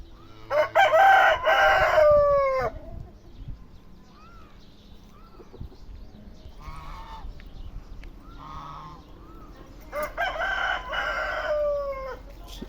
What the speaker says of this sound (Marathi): फायटर कोंबडा आहे हा पहा